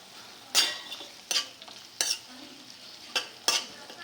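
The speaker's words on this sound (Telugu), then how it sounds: "టమాటాలు కూడా మూడు వంతులు వేగాయి" Tomatoes frying in a pan, with a quiet sizzle broken by about six sharp, evenly spaced scrapes and clinks of a metal spatula stirring them.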